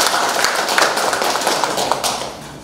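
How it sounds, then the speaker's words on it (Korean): At the launch ceremony of a special photography division of a photographers' association, the seated audience claps: loud, dense patter of many hands, sustained and then tapering slightly at the end, with no voices over it. "박수 한번 부탁드리겠습니다."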